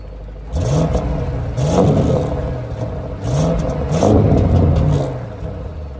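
An Audi RS6 Avant engine revs hard in two loud bursts with the exhaust flap open, each rising and falling, with a throaty, rasping exhaust and idle rumble in between.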